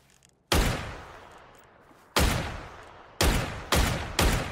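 Gunfire in the battle game PUBG: five loud, sharp shots, a single report, a pause, then a quick cluster of three, each with a ringing decay.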